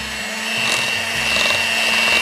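An electric hand mixer beats an egg into apple cider pound cake batter in a bowl, giving a steady, continuous whirring drone with a faint hum underneath, close and unbroken throughout.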